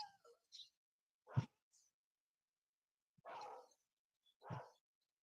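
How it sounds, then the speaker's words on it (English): A dog barks in a few short, separate bursts somewhere nearby in a house, with quiet gaps between them and no talking. "Looks like a delivery dog is barking"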